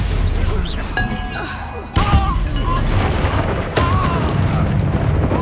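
Bombarda explosion spells in the Hogwarts Legacy video game: two sharp, loud booming blasts roughly two seconds apart, each followed by crashing debris, over a rumbling battle background with a player shouting spell names.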